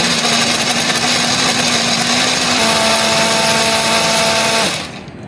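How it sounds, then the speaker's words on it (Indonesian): A blender grinds spice paste with added water for a chicken dish, giving a loud, steady high-pitched whirring that runs for almost five seconds and then cuts off. "Di sini aku akan menghaluskannya menggunakan blender."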